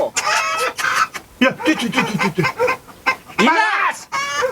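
Chickens clucking loudly and close in a Gilaki folk comedy show, busy overlapping squawks and excited cackles, with a short spoken phrase briefly heard among them.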